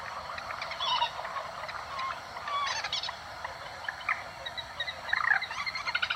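A wild bird calls at night in Vietnam in repeated short, high chirping bursts, faint and moderately distant over a steady low background hiss.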